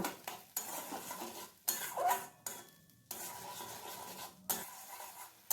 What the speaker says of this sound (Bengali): এখন এই সমস্তগুলো একবার ভালো করে কষিয়ে নেব